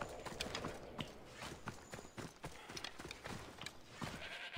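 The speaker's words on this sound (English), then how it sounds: "I was gonna shoot the horse" Soft, rhythmic horse hooves clop along steadily in a video game, fairly quiet and continuous over low ambient noise.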